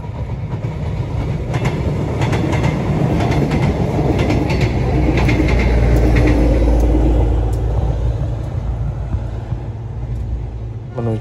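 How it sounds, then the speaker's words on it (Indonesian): A Yogyakarta airport passenger train rumbles past nearby, loud and steady, with rhythmic clickety-clack of wheels over rail joints and a deep low roar throughout. "Melintas di depan kita kereta api bandara dari stasiun Bandara Yogyakarta."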